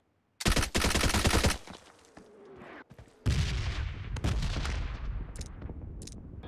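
Rapid automatic gunfire in PUBG Mobile bursts out loud and close in two long volleys, separated by a short lull, with quieter scattered shots and echoes trailing after.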